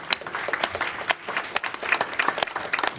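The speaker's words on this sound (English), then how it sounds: "Let's give them a round of applause." Sparse applause at a general session as representatives stand: scattered individual claps from a modest group, uneven and fairly quiet, with distinct sharp hand strikes standing out.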